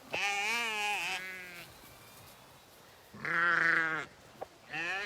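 Two loud sheep bleats, a wavering call near the start and another around the middle, with a third beginning at the end over faint background hiss.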